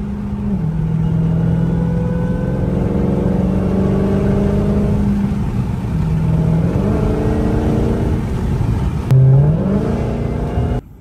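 A Dodge Challenger Last Call Redeye in track mode revs hard, its supercharged engine rising and falling in pitch through several loud, sustained pulls, with a sharp blip near the end.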